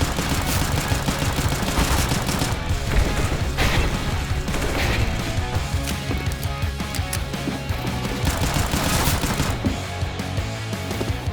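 FN Five-seveN pistol fire in Counter-Strike, with repeated sharp shots and clattering mechanical hits in quick bursts, loud and up close, running throughout without talk.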